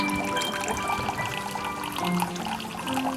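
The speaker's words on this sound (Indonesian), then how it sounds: "diisi dengan air bersih dari keran ledeng atau dari penampungan air yang ada di dalam toren sampai penuh." Clean tap water pours steadily into an empty bucket, a continuous splashing rush with no speech.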